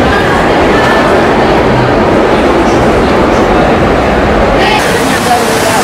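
A subway train rumbles and clatters loudly through a station, a dense continuous roar close by with a brief brighter hiss near the end.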